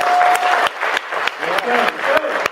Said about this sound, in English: put your hands up and clap for small